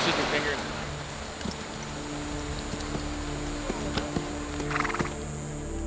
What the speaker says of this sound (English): Found some wild horses. They're coming this way.